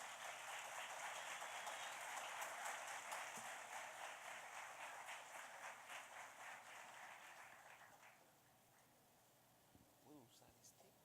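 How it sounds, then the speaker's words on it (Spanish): Faint, distant audience applause at a university lecture, a dense patter of clapping that slowly fades away after about eight seconds, leaving near silence. "Recibámoslos con un fuerte aplauso"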